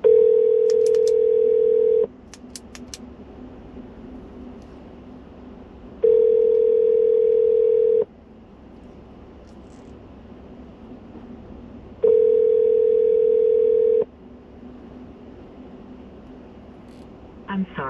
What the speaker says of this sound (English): Let's try to give James a call